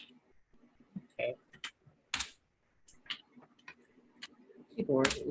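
Irregular clicks of typing on a computer keyboard that is acting up, bursts of keystrokes mixed with soft speech in the background.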